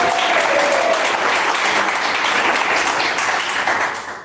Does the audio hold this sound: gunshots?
no